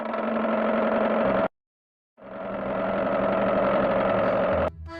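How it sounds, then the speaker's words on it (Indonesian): A motorbike engine drones loudly and close, cuts out abruptly for a moment, then returns, revving up and holding steady before shifting lower at the end. "Roy, itu kan motor yang tadi."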